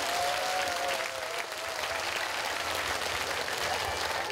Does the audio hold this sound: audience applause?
yes